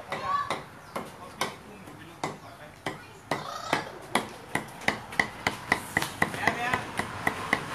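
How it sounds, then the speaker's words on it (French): Beef is chopped with a knife at a morning market in Thailand, giving steady rhythmic chops on a board that speed up and grow sharper toward the end. Faint chatter and market noise sit underneath. "on va hacher de la viande"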